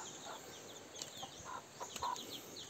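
Chicks chirp in a farmyard, with short, high peeps scattered across the moment over a constant outdoor hiss, with a few louder cheeps near the end and no talking.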